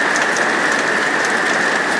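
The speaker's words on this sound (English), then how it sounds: "it's raining a lot harder now" Heavy rain pours steadily outdoors during yard work digging drainage to fix basement water problems, a dense constant hiss of drops on surfaces, loud and close, with no talk.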